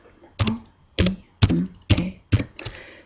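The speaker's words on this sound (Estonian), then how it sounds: "trükin selle suurte tähtedega" A computer keyboard is being typed on in short bursts, six distinct clusters of close, crisp key clacks spaced roughly half a second apart, with quiet between.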